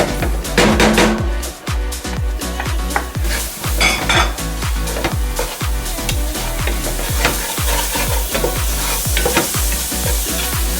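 Garlic and parsley stirred into a pan of vegetable fried rice, with steady close sizzling and frequent clinks and scrapes of a utensil against the pan throughout.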